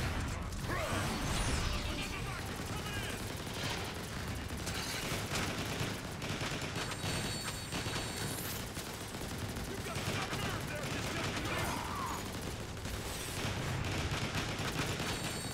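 Sustained gunfire rattles through a battle in War of Cybertron, with rapid repeated shots, mechanical clanks and explosions layered into a constant loud barrage, and voices talking over it.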